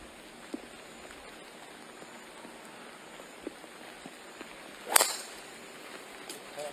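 Rain falls lightly on a golf course during a championship round, a faint steady patter with a few sharper drops and one louder splash-like burst midway.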